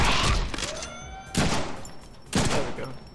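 Gunfire from a gun in the Deadpool video game, three loud, sharp shots spaced about a second apart, each followed by a short ringing decay, with no talking over them.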